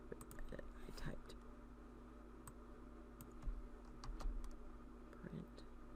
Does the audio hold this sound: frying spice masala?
no